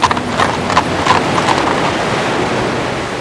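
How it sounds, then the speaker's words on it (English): Hooves of a horse pulling a tram on the Isle of Man clip-clopping in a steady rhythm, fairly close, over wind and surf-like background noise, fading slightly toward the end. "these horse-drawn trams are still the favourite with holidaymakers"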